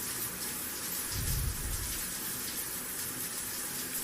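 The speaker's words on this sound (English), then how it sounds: "I'll stay a few minutes under the hot water, washing away the blood." Hot shower water running in a video game, a steady hiss of spraying water with a soft low splash swelling briefly partway through.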